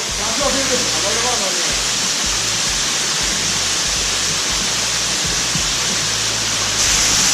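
Steady, loud rush of a waterfall in a rainforest resort in Kottayam fills the whole clip, a constant broadband roar with faint voices murmuring underneath.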